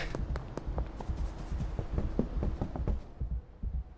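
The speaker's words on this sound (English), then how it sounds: "Can hear our heart pounding in our ears." Heavy, thumping heartbeat pounding in the video game Schedule I, a rapid series of low muffled beats repeating steadily and close before fading out.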